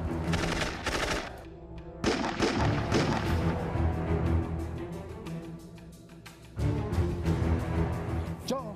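Repeated gunfire in a staged comedy shootout, bursts of loud sharp shots and rapid volleys with quiet gaps between them, close and harsh.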